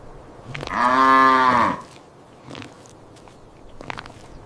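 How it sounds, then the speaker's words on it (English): A cow lets out one long, loud, close moo lasting nearly a second, followed by a few faint scattered sounds in a quiet setting. "Cow."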